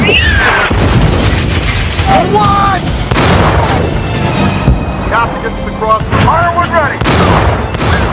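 Loud heavy booms of tank cannon fire, from a German Tiger tank, crash repeatedly amid battle noise, with shouting voices in between.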